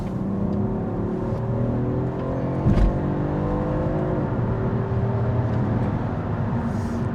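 A BMW 230e engine pulls hard with a rising, strained drone that shifts up through gears, loud and continuous from inside the vehicle.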